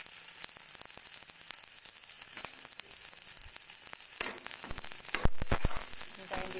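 Garlic browning in a pan with onion added, frying with a steady broadband sizzle and occasional clicks and scrapes of a utensil, for a Filipino ginisang patola with misua and mackerel.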